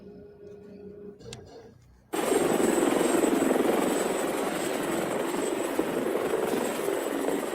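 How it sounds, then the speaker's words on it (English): A small real helicopter starts abruptly after a quiet moment and then roars steadily nearby, its rotor chop and turbine whine loud and unbroken to the end; faint sounds precede it. "Oh, it's a real helicopter."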